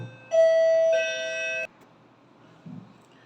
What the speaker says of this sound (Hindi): सॉरी, डोरबेल दो बार बज गई इसी समय